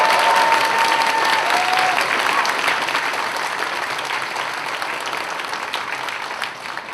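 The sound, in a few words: audience applause for the hosts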